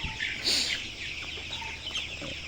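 Broiler chickens, a colour-strain flock of about 1500 birds, clucking and murmuring together inside a farm shed during hot weather; a steady, moderately near chorus of soft calls with no talk.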